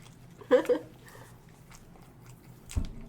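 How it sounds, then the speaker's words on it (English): Crunchy Pringles chips are chewed close to the mic, a couple of sharp crunching bites followed by quieter chewing and another crunch. "Hear that crunch? I like that crunch."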